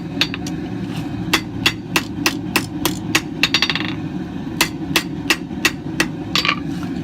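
A hammer rings in a quick series of sharp, bright metallic strikes, roughly steady but uneven in pace, as hot steel is forged into a taper for a viking spoon knife, close and loud over a low background rumble.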